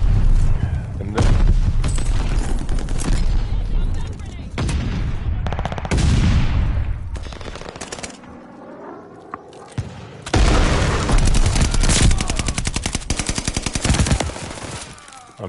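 Rapid machine-gun fire and booming shots erupt in Call of Duty Vanguard, loud close bursts separated by brief lulls, with rattling automatic volleys dominating and faint talk underneath.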